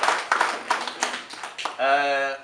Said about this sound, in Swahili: naomba tuipigie makofi serikali na wamefanya kazi kubwa